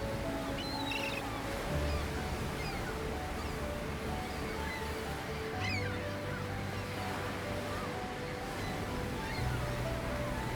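Ocean waves roll onto a beach with a steady wash of surf, faint and continuous, while birds call briefly in the background.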